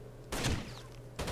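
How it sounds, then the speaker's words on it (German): Burst of rapid gunfire from the video game Rainbow Six Vegas 2, a loud volley of shots followed by a second burst about a second later, with no talking. "wie viele Schüsse haben die?"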